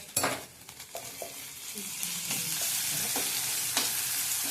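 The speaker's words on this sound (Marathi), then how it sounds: "आणि आता चांगलं तेलात भाजूया हे पण।" Sliced garlic, ginger, a green chili and curry leaves hit hot oil with a sharp burst of crackle, then settle into a steady close sizzle broken by occasional stirring scrapes.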